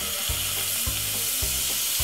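Butter sizzling in a hot pan, a loud, steady hiss with near, low thuds or knocks recurring every half second or so beneath it.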